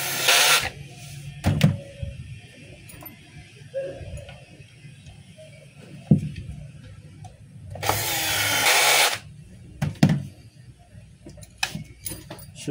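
Parts are being screwed onto a DeWalt D25899 jackhammer during an armature and con rod repair, with short bursts of a power screwdriver whirring, clicks and metallic clinks of handled pieces between quieter pauses.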